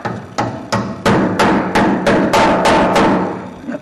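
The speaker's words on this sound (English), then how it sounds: "Let me grab the hammer." Hammer blows ring out while new brakes are fitted to a 1949 Chevy truck, about ten sharp, evenly spaced metallic strikes close up and loud, with no talking.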